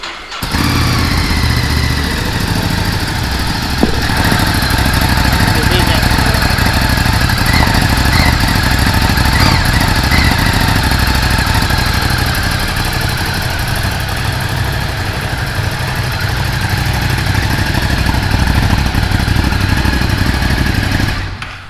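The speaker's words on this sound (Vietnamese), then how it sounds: "mình sẽ đề máy lên cho các anh em nghe tiếng buzin một xíu nha" A Ducati Scrambler 1100 motorcycle starts up inside a showroom and settles into a loud, steady idle, with a throbbing low rumble that runs close and unbroken for about twenty seconds.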